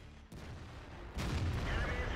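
Tank cannon fire in World of Tanks, two heavy booms in quick succession, the second louder and followed by a rumbling tail, with faint talk in the background.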